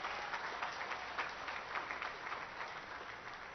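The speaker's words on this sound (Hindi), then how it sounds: "चलो तालियों की गड़गड़ाहट से।" A crowd at a political rally in Vikarabad claps steadily for a Union Minister's speech, a dense, muffled wash of applause that stays even and moderately distant throughout.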